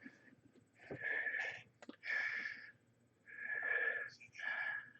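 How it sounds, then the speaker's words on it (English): Heavy breathing over a phone or video call, with four or five loud, breathy rasping exhales and inhales in an uneven rhythm close to the microphone, and no talk. "I can hear you breathing heavy."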